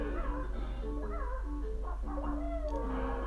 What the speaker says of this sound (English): I just love the sound the bird makes as she's walking.